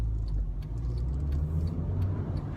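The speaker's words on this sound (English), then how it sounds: "So I'm in first, off the brake, gas, hold the biting point, and now I'm off." A manual car pulls away from a stop at a roundabout, its engine a low, steady rumble heard from inside the cabin, with no talk over it.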